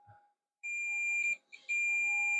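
A continuity tester beeps while probing solder joints during an X Station ODE optical drive emulator install: a short blip, then two long, steady, high-pitched electronic tones separated by a brief gap, clear and close.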